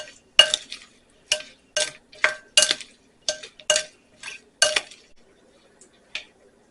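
A utensil clinks and scrapes against a bowl while seasoning is mixed into food, about a dozen short sharp taps and stirs in an uneven rhythm, close and clear with quiet gaps between.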